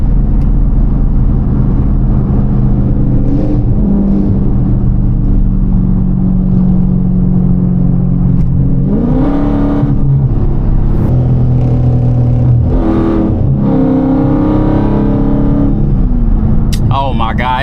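A loud SRT car engine heard from inside the cabin drones and rises in pitch through revs, with a steady heavy rumble underneath and voices talking over it.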